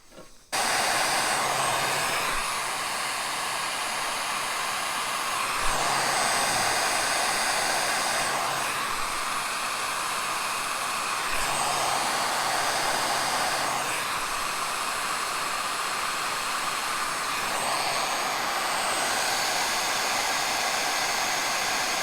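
Heat gun preheating a Case IH Cyclo Air planter tube in a chilly shop, a steady loud blowing roar running continuously up close with slight swells, no talking.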